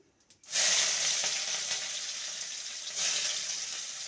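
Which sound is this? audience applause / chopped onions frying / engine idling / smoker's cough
chopped onions frying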